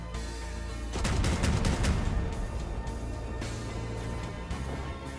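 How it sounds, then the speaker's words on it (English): Rapid bursts of gunfire from a weapon in the video game Crossout, a loud cluster of shots near the start followed by a few scattered reports over a steady engine-like background hum. "So let's try to shoot there."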